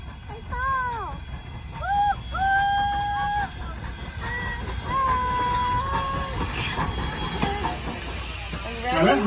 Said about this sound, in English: The rumbling and hissing sound you hear right now going on underneath of our train is the